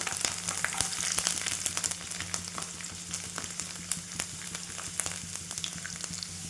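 Garlic frying in hot oil for a bitter gourd dish, a dense, steady crackling sizzle with sharp spitting pops throughout, close and fairly loud over a faint low hum.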